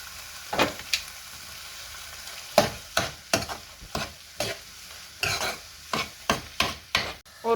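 Vegetables for gemista are stirred and sautéed in a pan: a series of rhythmic scraping strokes over a soft sizzle, close up and unaccompanied by talk.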